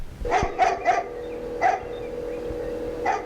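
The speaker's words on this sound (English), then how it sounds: "I wish that dog would stop barking." A dog barks in short, repeated bursts in the video game Tender Loving Care, several quick barks, a pause, then a couple more, fairly close over a steady low hum.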